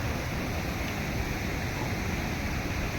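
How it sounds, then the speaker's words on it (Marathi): Water pours over a large dam in a steady, loud, broadband rush that holds constant and close throughout, with no voices. "किती छान वाटते पाणी वरनं पडते"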